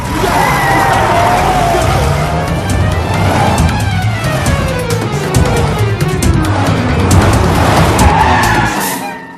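A car speeds off with screeching, skidding tires and a loud engine, sustained and close throughout in a Bollywood comedy chase.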